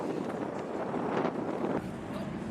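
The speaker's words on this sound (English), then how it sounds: "The boat ride there was super windy." Steady, loud wind buffeting the microphone during a boat ride near Cancún, forming a dense rushing roar that fills the short clip with only slight surges.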